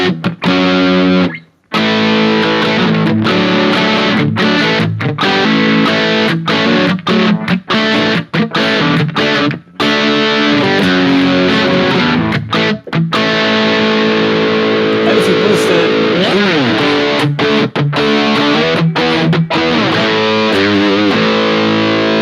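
Heavily overdriven electric guitar through a Fractal 50-watt Plexi amp model, playing chunky rock riffs and sustained chords, loud and continuous with a brief pause near the start.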